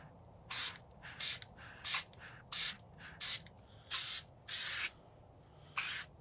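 Bed liner paint containing acetone sprayed onto PVC in repeated bursts, eight short hissing blasts of varying length separated by brief pauses, close and fairly loud over a low background hum.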